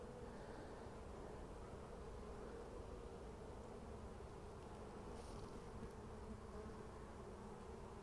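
Honey bees buzz in a steady, faint hum that continues throughout, with no voices.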